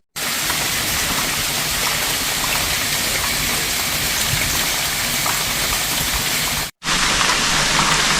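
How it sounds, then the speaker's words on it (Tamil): Heavy rainwater rushes and gushes through a spot near a cave in Nuwara Eliya after a downpour, a loud, continuous roar that drops out briefly and then resumes just as strong. "மழை பெஞ்சு விட்டுருக்கிறதால இந்த இடத்துல அதிகளவாக தண்ணி அப்படியே பாயுது"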